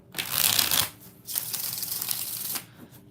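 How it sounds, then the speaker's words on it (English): Tarot cards being shuffled in two quick riffling bursts separated by a short pause, close and fairly soft, with no talking. "Okay, 3 more shuffles."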